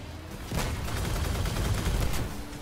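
Cannon fire in the vehicle combat game Crossout booms as a sudden heavy blast followed by a dense, sustained rumble of rapid shots and impacts, loud and continuous.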